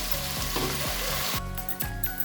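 Minced chicken meat sautés in a pan with a dense, loud sizzle, broken by a few quick scraping strokes of a spatula as the mince is turned, close and steady throughout.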